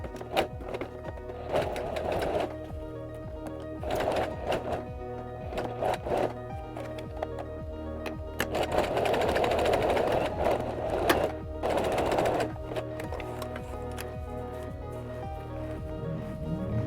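A sewing machine runs a wide, tight zigzag stitch across two layers of boxer shorts fabric, its motor humming in close bursts of a second or two with short pauses between, then a longer continuous run.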